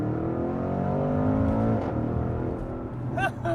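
A 2021 Porsche Cayenne GTS launching under launch control gives a loud, close engine roar that holds steady, then falls away slightly near the end as the pitch shifts.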